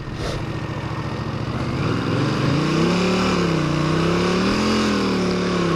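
A 1981 Honda CX500 motorcycle with no fairing rides along, its engine droning loudly and close, then rising in pitch as it accelerates, with steady wind rush throughout and no speech.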